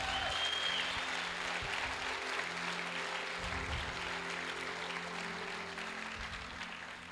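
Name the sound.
church congregation applauding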